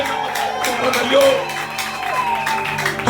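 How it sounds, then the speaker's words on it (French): A church congregation at a Sunday service claps and cheers in praise, a brief, loud burst of crowd noise with shouts and whoops, mixed with voices over the top. "Manifestez vos cris, vos applaudissements pour la gloire de"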